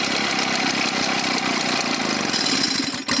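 A vintage Echo PB 403T backpack blower runs roughly after a low-speed carburetor adjustment, its two-stroke engine loud and close with an uneven, sputtering rhythm before a brief dip near the end.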